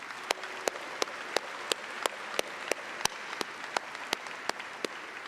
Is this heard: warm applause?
yes